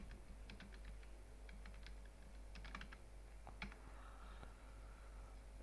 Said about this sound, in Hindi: अभी फ़िलहाल हम टाइपिंग का काम कर रहे हैं